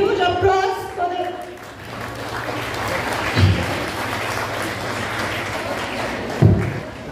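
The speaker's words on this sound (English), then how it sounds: "A huge applause for the" Audience applause at a college graduation day ceremony, a steady crowd clapping that fills the hall for several seconds under an announcer's voice, with a couple of heavier thumps.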